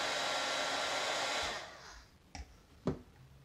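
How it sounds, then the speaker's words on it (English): A heat gun blows steadily on a 3D printed wood filament hand, a loud broadband roar that cuts off after about a second and a half, followed by a couple of light knocks. "When we heat it up with a heat gun, it softens it up."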